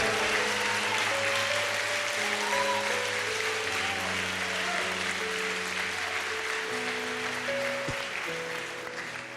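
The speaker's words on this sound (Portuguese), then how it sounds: "Pode aplaudir." A congregation at a Catholic religious gathering applauds as a broad, steady wash over sustained keyboard chords, the clapping dimming slightly toward the close.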